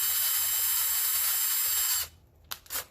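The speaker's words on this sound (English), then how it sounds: "You want to drill just far enough with that 9/64 drill bit that little ring right there pops off" A power drill fitted with a 9/64 bit bores into the rivet of a Hot Wheels car. It gives a loud, steady whine for about two seconds, then stops, followed by a few small clicks and taps.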